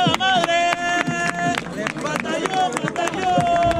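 A street rap battle crowd at a market in León, Guanajuato, claps and cheers loudly up close, with sharp claps mixed into shouting voices and tonal, music-like sound.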